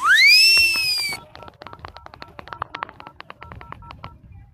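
A telephone number being dialed, a quick run of short, evenly spaced keypad tones after an opening rising whistle-like sweep, close and clear, with no talking.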